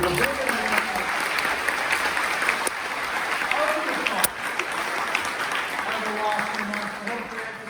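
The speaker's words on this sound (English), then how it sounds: "Give these women a big round of applause." An audience at a science student welcome event gives a standing round of applause, a loud, sustained burst of clapping with voices and cheers mixed in.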